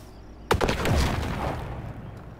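A nitroglycerin charge detonates in the game The Oregon Trail, one sharp loud blast followed by a rumbling, crackling debris tail that fades over about two seconds.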